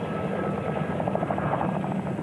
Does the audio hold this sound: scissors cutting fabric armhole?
no